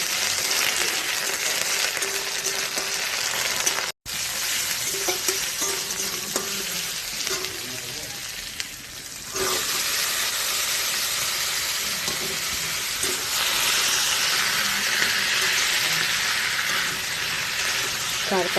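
Boiled papaya, chickpeas and potato with ginger fry in a pan, a steady close-up hiss and sizzle broken by a brief drop near four seconds and stirring scrapes throughout.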